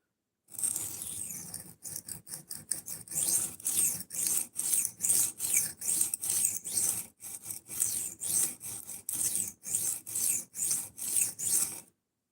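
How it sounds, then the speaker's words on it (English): A knife blade is reprofiled on a low-grit abrasive, giving a series of rough, rasping strokes in a steady back-and-forth rhythm, close and moderately loud, with short pauses between passes and no talking. "You reprofile at low grit."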